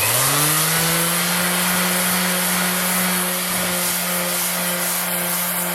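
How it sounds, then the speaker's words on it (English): Power sander working over concrete patcher on a garage floor being prepared for epoxy, a loud steady motor whine with a rising pitch at the start, then holding constant with gritty grinding texture throughout. "we're gonna go and sand those down to where they're flat"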